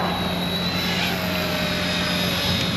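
Eachine E110 tiny toy helicopter in flight, a continuous close, high-pitched whirring buzz of small rotor and motor that stays steady and fairly loud throughout.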